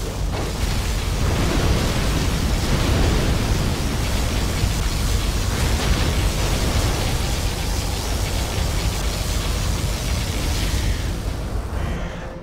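A particle cannon firing in Command & Conquer: Zero Hour, heard as a steady, loud, rushing roar of broadband noise lasting throughout and tapering slightly at the close, with no voices.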